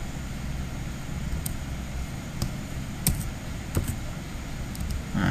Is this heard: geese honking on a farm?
no